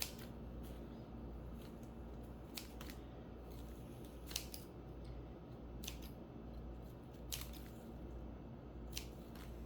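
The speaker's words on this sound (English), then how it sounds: "I'm gonna grab my scissors and I'm gonna cut it in different angles." Scissors snip repeatedly in short, crisp cuts at an uneven pace, close and fairly quiet against a soft background hum.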